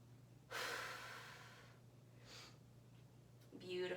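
Slow, deep breathing during a stretching flow: a long, close airy exhale followed by softer breaths, with a steady low hum beneath.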